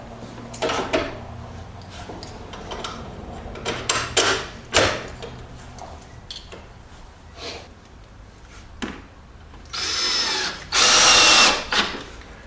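Power drill driving screws to fasten the last hinge on a door in a treated door jamb remodel, scattered clicks and handling knocks followed by two short whirring bursts near the end, close, with no talk.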